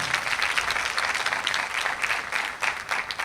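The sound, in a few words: audience applause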